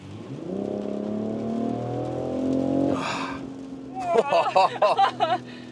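2025 BMW X3 M50 six-cylinder engine during agile driving, heard from inside the cabin as a steady rising drone that cuts off sharply, followed by a brief rush of noise and voices talking.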